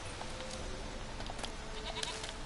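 Goat bleating in The Witcher 3 game world, a few short nasal calls rising over a steady busy background of ambient game sound, moderately faint.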